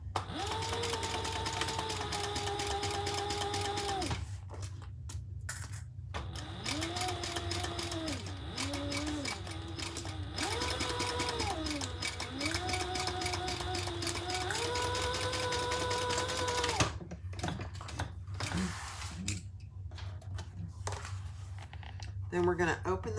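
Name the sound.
sewing machine stitching crossbody bag seam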